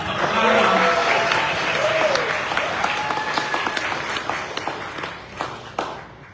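An audience at a Thai fashion showcase in New York applauds, a full burst of clapping that swells early and thins out into scattered claps toward the end.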